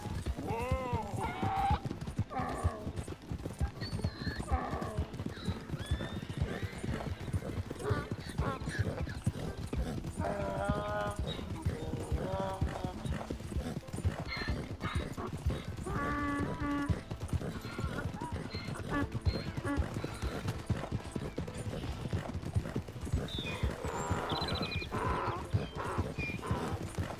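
Horse hooves clip-clop steadily through a Red Dead Redemption 2 ride, with occasional whinnies and a rider's spoken commands over the rhythmic hoofbeats.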